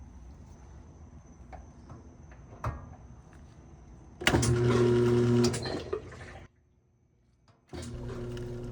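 A Kenmore/Whirlpool washer drum being worked free of brake rust turns slowly with a loud mechanical whirring and grinding that abruptly cuts out, followed by a second start, near and unaccompanied by talk.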